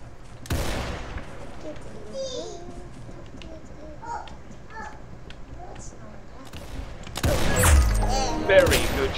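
Gunfire in a Roblox Arsenal video game match: a sharp burst of shots near the start, then a quieter stretch with faint game sounds, and a loud rapid volley toward the end, with a voice heard talking.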